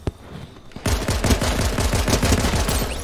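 Gunfire in the video game Fortnite breaks out abruptly after a brief single shot, then continues as a fast, loud, steady stream of rapid shots for several seconds.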